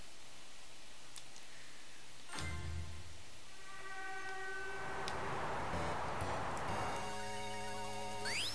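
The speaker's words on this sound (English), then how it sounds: "Game is over if Dr. Eggman's train beats you to the finish" Dr. Eggman's train in a Sonic level rumbles in with a low mechanical chugging, followed by bright sustained horn-like tones and a rising rushing surge, loud and layered with game music, no voices.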